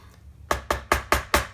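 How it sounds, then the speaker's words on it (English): Five evenly spaced taps from an old StewMac hammer gently knocking the 15th fret of a guitar, each a crisp, close, woody click that rings briefly before the next. "Just give that a gentle knock."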